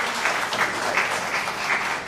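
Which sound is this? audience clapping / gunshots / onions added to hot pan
audience clapping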